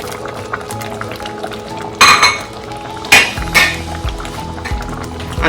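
A spoon stirring a cooking pot of whelk soup, with soft liquid movement and a few loud clanks against the pot's metal.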